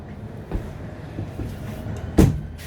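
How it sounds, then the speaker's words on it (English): A few muffled thuds and bumps of windows being pushed shut, the last one a louder close knock, over a low rumbling background. "let me shut some of these windows"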